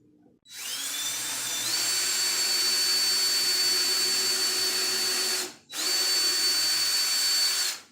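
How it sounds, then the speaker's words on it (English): A power drill whines steadily at high speed drilling pilot holes in wood for a kitchen island, pausing briefly near the end before spinning up again, close and loud with no talking. "I'm fixing to drill some pilot holes"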